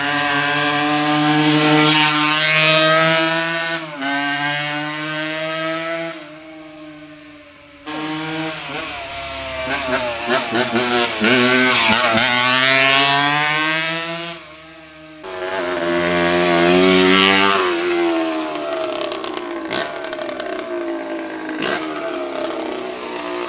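1983 Honda CR60R two-stroke dirt bike engine revving hard in three long bursts, its buzzy, raspy note climbing and falling in pitch with brief drops between pulls, close and loud.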